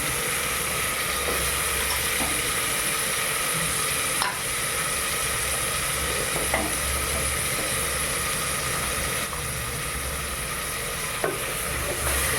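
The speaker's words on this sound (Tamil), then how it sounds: "காய் கட் பண்ணி வச்ச காயை அலசி வச்சுருக்கிறேன். அந்த காய் போடுவோம்." Washed, cut vegetables hit a hot pan for a vegetable sambar rice, with a loud continuous sizzle and occasional scraping stirs throughout.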